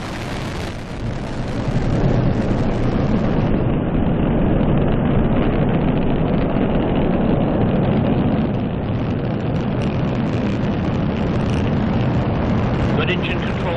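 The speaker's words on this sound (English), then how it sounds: "And liftoff at dawn. The dawn of Orion and a new era of American space exploration." Orion spacecraft launch at dawn, liftoff roar of the rocket engines as a loud, broad, continuous rumble that swells and holds steady, with a commentator's voice speaking over it.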